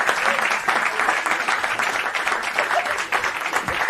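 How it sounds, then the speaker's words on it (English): An audience at a comedy show applauds comedian Doug Smith, giving dense, sustained clapping that stays loud and even throughout with no break. "Everybody, big round of applause for my buddy Doug Smith."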